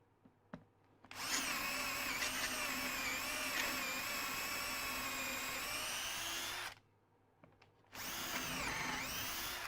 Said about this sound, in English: so I don't go drilling into my bench to start